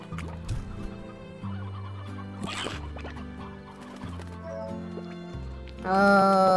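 In the game Slime Rancher, chickens cluck and gobble repeatedly over a looping game tune, ending in a louder burst of bright chiming music.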